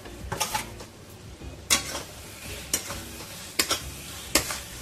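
Marinated chicken liver, added to a tomato spice masala, sizzles quietly in a pan while a utensil stirs it in several sharp scraping strokes spaced about a second apart.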